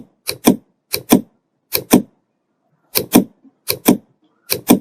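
Computer keyboard keys are struck in six quick double-taps, each pair a crisp, close click-clack, spaced about every second with silence between.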